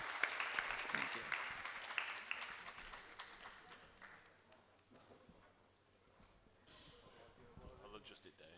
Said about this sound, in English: Can we all give him a round of applause?